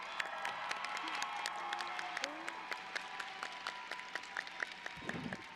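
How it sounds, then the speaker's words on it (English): Graduation crowd at a high school ceremony gives moderate applause with scattered claps and a few cheers, held steady across the clip with a faint voice and tones underneath. "So give them a round of applause too,"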